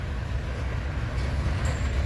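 A coal freight train rolling past on a Heartland division main line at the start of the St. Joseph sub, a heavy continuous low rumble of wagons with a brief high squeal near the end.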